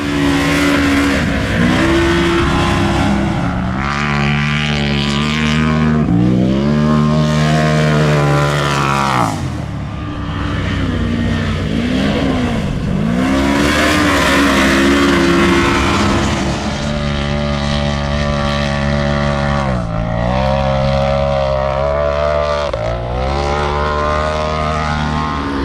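A 1300-horsepower Polaris RZR roars loudly and continuously while dune riding, its engine pitch climbing and falling repeatedly as it revs through the sand, close and dominant throughout.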